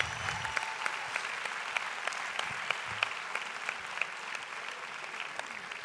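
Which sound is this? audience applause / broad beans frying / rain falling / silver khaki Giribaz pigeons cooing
audience applause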